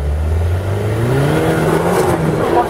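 An Audi car accelerates onto a hill, its engine droning loud and close with a steadily rising pitch that climbs smoothly across the whole stretch.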